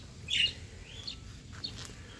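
Pet birds kept in a colony cage give a few faint, scattered chirps and tweets, one brighter call early and softer ones later, over a low background hum.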